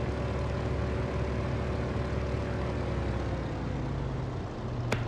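Yak-52 radial engine and propeller in the DCS flight simulator, running at a lowered RPM after the propeller is moved to coarse pitch, a steady close drone with a low hum and a brief click near the end.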